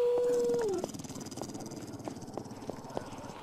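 A long, steady dog howl in the video game 7 Days to Die slides downward and ends abruptly, followed by faint rhythmic thumps and yips under a dull background.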